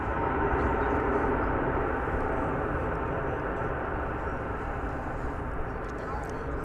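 An airliner on its arrival flight from Silao into DFW Airport, a steady broad roar of jet engine noise that holds loud and even throughout, with no other distinct sounds standing out.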